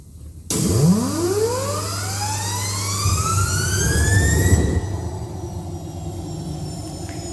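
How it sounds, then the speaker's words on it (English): A MiniLab gas turbine engine starts up with a steady low drone as a rising whine climbs in pitch, then the sound thins and settles into a quieter, continuous tone after a few seconds. "Now we will do a test run of the turbine engine."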